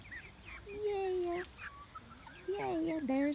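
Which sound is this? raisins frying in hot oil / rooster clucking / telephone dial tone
rooster clucking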